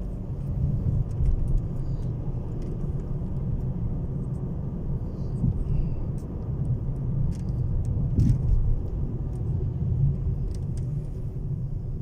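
A car drives the M1 motorway from Luton to London, with a steady low road and engine rumble from inside the cabin, constant throughout, plus occasional faint ticks and light knocks.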